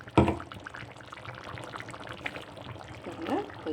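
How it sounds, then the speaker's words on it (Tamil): Water from a mixer jar poured into a pan of coconut kheema curry, a short splashy pour at the start followed by softer liquid sounds, with a voice speaking briefly. "இதுலேயே இன்னும் கொஞ்சம் தண்ணி கலந்து ஊற்றிக்கணும்"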